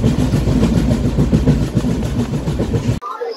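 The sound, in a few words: Kanchankanya Express train departing Bagdogra station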